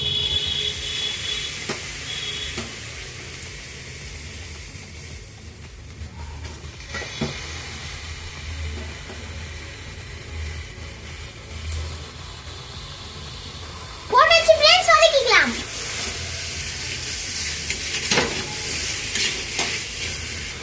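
Squid sautés with masala in a pan, making a soft, continuous frying hiss with occasional stirring scrapes, and a brief whistling squeal cuts in about two-thirds of the way through.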